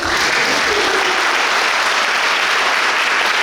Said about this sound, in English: deserves the greatest round of applause